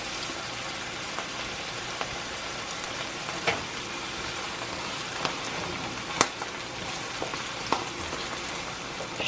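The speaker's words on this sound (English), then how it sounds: "Rinse my hands." Hands rinsed under a running kitchen tap, giving a steady broadband hiss of flowing water broken by a few sharp clicks and splashes, close and with no talking.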